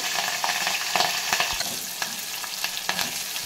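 Green and dry chillies fry in hot tempering oil with lentils, a dense, close sizzle and crackle broken by little pops and light stirring, with no talk.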